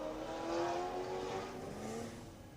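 Engine noise from a 2000 Ford Ranger pickup with a swapped-in Toyota Supra 2JZ turbo engine at an autocross at Laguna Seca, a steady, fairly loud drone that swells and eases slightly, with no talking.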